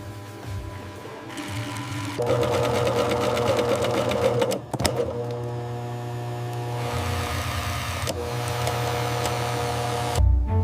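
An industrial sewing machine stitches leather at a leopard-leather factory, its steady mechanical whir running loud and continuous with a brief pause midway before resuming.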